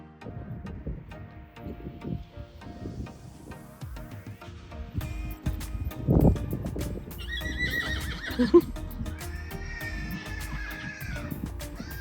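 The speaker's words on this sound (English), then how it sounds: "Can you hear Pav whinnying to Monty" A horse whinnies loudly and nearby at a stable yard, with soft hoof clops and a steady background hum around it.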